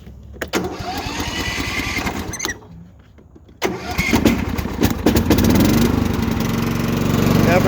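Troy-Bilt lawn mower with a worn drive belt being started: a couple of seconds of cranking, a brief pause, then the engine catches and settles into a loud, steady running rumble close by.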